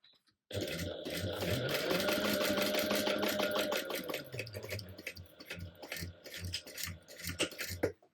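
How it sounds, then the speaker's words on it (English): A sewing machine topstitches through a fabric base and seam allowance, starting abruptly with a fast steady needle chatter, then slowing into uneven bursts before stopping; close and fairly quiet. "you're going to sew, top stitch this down, sewing through the base part"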